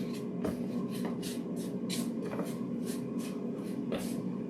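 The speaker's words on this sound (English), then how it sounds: "I'm going to go ahead and mix it around" Brussels sprouts tossed with olive oil using a spatula before air frying, a run of quick rhythmic scraping and shuffling strokes, close and steady, with no talk.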